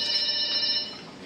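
A phone rings with an incoming call, a bright electronic ringtone tone held steady and fairly clear for about a second, with no voices over it.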